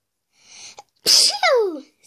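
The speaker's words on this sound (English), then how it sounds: "Sorry guys, I'm sneezing." A single sharp sneeze, preceded by a brief inhale, followed by a short vocal sound, close and loud.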